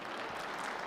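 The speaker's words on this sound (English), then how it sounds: "And that applause." Audience applause at a high school presentation night, a brief, faint wash of clapping with no voices.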